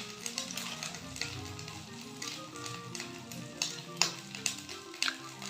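Spiced potato filling with turmeric, chili and cumin sizzles steadily in a pan, close and continuous, with occasional sharper crackles and stirring scrapes over the frying hiss.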